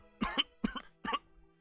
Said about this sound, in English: As he coughs.